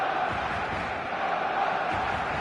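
A packed stadium crowd in the eFootball 2026 football video game on PS5 roars in a dense, continuous wall of cheering that holds steady without a break.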